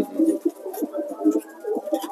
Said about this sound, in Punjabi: ਇਹ ਫਿਰ ਪੁਰਾਣੇ ਕਬੂਤਰਾਂ ਚੋਂ ਆ ਜਾਂ ਨਵੇਂ ਲਿਆਂਦੇ ਬਾਈ ਕਬੂਤਰ?